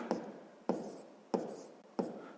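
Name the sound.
writing on a board or paper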